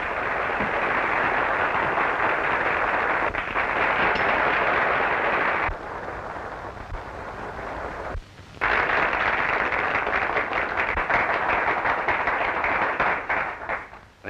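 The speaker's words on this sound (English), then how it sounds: "Listen to that applause." A theater audience gives a long, dense burst of applause on a 1937 recording. The clapping stays loud and continuous, dips briefly twice, then swells again before tapering off.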